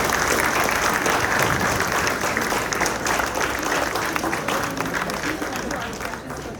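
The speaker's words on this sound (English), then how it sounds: "can you please give us a round of applause?" A full hall of listeners gives strong, sustained applause at the close of a panel session on digital privacy, many hands clapping loudly and evenly before tapering slightly at the end.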